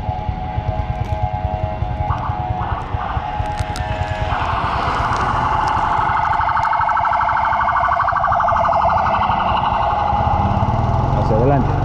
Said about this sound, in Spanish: La primera ambulancia que veo que sale corriendo y está sonando su sirena.